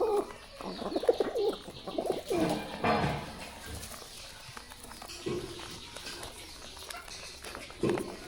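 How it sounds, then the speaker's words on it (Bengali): A pigeon cooing close by at a home, several soft, throaty coos in irregular bursts with faint pattering between them, alone without talk. "এই পায়রাটা ওই সারাক্ষণ ওই বাইরে পিছে পিছে ঘুরে।"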